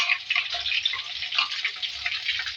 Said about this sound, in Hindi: इसमें जो है प्याज ऐड करेंगे, इसको फ्राई करेंगे